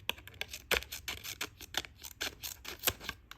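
Ganzo G302B multi-tool scissors snip repeatedly through material in quick, crisp cuts, each a sharp close-up click-and-slice in an irregular rhythm.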